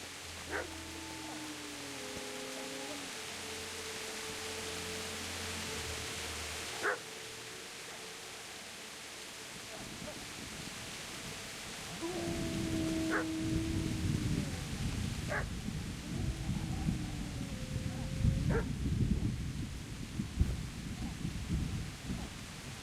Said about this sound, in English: I don't want to kill a dog, but it's got to be barking at something